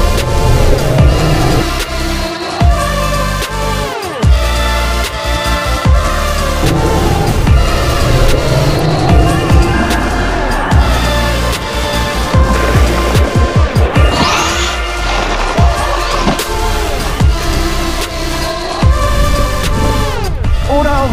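A Traxxas Xmaxx 8s RC monster truck runs hard, its electric motor whining loudly and repeatedly revving up and down in sweeping pitch, with tire scrabbles and thumps from jumps nearby.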